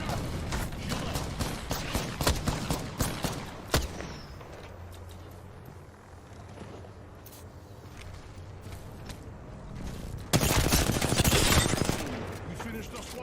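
Gunfire in the Apex Legends shooter game, with repeated loud bursts of rapid shots, a few sharp single cracks and a dense volley near the end, plus scattered footsteps.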